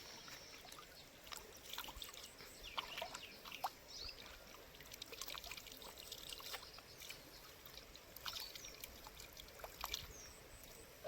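Faint trickling and gurgling of river water running past, a quiet continuous flow with small splashes and drips scattered throughout.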